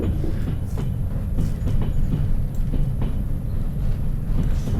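A locomotive in the Trans-Siberian Railway Simulator video game pulls its train forward with a steady, loud rumble and rhythmic clickety-clack of wheels over rail joints, continuous and close, with no voices.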